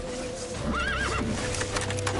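In The Witcher 3, a horse gives a short, wavering neigh over the clip-clop of hooves in a tense outdoor scene, with a constant background of game sound.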